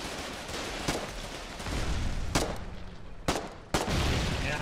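Gunfire in the war video game Foxhole, with several sharp shots standing out from a dense, steady roar of battle noise and no talking.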